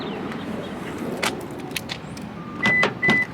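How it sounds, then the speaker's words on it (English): A car unlocking by keyless entry gives soft clicks and a few short, bright electronic chirps at close range over quiet outdoor background noise. "Okay, well, that's keyless entry."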